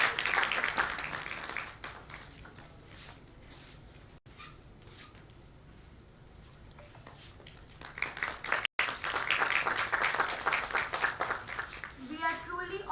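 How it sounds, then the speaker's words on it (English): Dense crowd applause at a National Technology Day event, at the start and again after a quieter stretch, loud and sustained, with voices mixed in. "Clapping should stop now."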